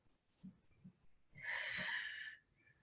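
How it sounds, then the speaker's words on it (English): A deep inhale during a gentle yoga session lying with knees drawn to the chest: a breathy, airy draw of breath lasting about a second, faint and close, preceded by a few soft low thumps. "Take a deep inhale."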